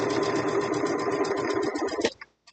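A sewing machine runs steadily for about two seconds while stitching a block for a braided table runner. The motor hums and the needle chatters in a fast, even rhythm, loud and close, then it stops abruptly.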